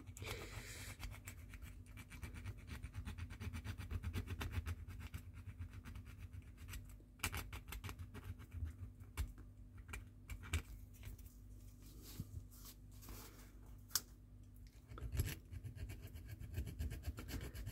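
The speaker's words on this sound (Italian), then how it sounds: "con una piccola lima vado a fare questo lavoro qua" A small hand file works a plastic model part for a Mazinger Z arm assembly, giving close, rapid rasping strokes that run on in fast bursts with a few brief pauses and some louder knocks; no voices.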